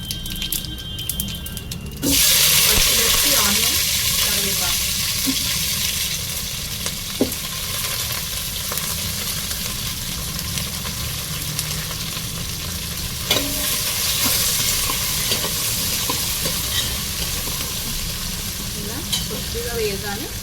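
Cumin, mustard seeds and dried red chillies sizzling in hot oil for sambar rice, a loud steady crackling hiss that starts suddenly and continues with occasional pops and stirring scrapes, close up.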